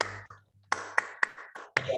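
Rhythmic clapping of the Indonesian scout cheer, tepuk pramuka, in a classroom setting: a short pattern of about seven sharp, fairly close claps in uneven rhythm, with a faint low hum beneath.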